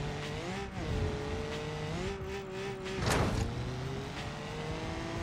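An off-road car in BeamNG.drive revs and accelerates with a steady engine whine that rises and dips, with brief bursts of tire noise, heard alone.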